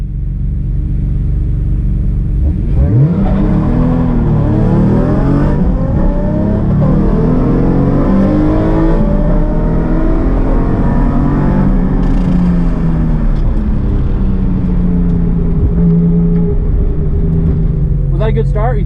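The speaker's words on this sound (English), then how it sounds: "we're gonna go drag race before the sun goes down" Nissan 350Z cars launching in a drag race, one engine revving hard then pulling away with rising and falling tones through the gears, loud and close, with voices talking over it.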